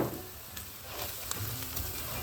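Rice and spices frying in a pan for stuffed grape leaves, a soft, steady crackling sizzle with occasional stirring scrapes, heard alone and fairly faint.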